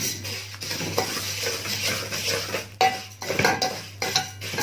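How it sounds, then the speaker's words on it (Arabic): Vermicelli frying in an aluminum pot in a home kitchen, with a spoon stirring and scraping against the metal over a soft, steady sizzle and occasional clinks. "هنبدا نحط شعريه نحمرها"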